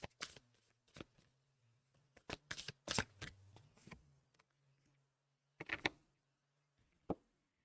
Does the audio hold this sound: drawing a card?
yes